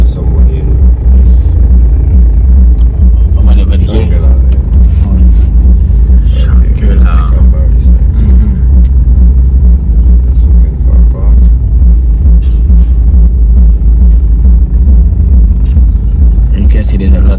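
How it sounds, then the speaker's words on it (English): Busy street traffic rumbles through the lively West End, with cars and engines forming a loud, continuous low drone. People talk close by over it throughout. "You can see there's lots of traffic here as well."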